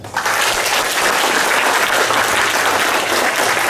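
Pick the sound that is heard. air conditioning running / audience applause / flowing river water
audience applause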